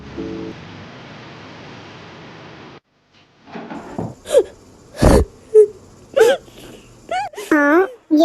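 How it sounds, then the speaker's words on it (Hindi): A dramatized crying scene: muffled noise gives way to a woman's sobs, gasps and whimpering wails in uneven bursts, loud and close, with a sharp thump partway through. "ये रोने की आवाज कहाँ से आ रही है?"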